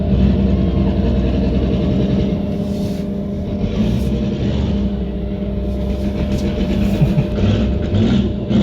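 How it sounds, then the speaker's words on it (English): A Ford Mustang Shelby GT500 does a drag-strip burnout, a loud, continuous, low engine roar with a rough, churning rumble throughout. "That's a great burnout"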